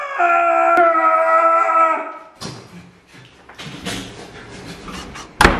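A dog howls in a long, wavering, drawn-out cry that is loud and close, then breaks off into scattered knocks and rustling, ending in a sharp thump.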